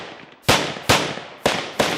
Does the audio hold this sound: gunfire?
yes